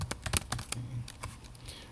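Quick, irregular clicks of keys tapped on a computer keyboard while writing Python code, close and fairly quiet, with uneven bursts of keystrokes and short pauses between them.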